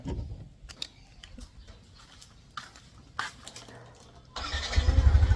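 A motorcycle engine starts up and settles into a loud, throbbing idle near the end, after a quieter stretch of street ambience with scattered knocks and passing noise.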